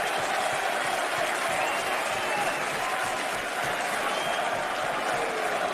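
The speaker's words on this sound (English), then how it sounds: "To the roar of this massive crowd" A massive wrestling arena crowd roars in a dense, continuous wash of cheering and noise that holds loud and steady throughout, with no distinct voice rising above it.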